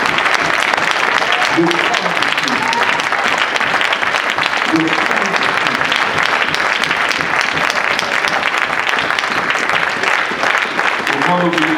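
A church congregation claps steadily and loudly throughout, with acclamation mixed in as a preacher's voice chants over the applause.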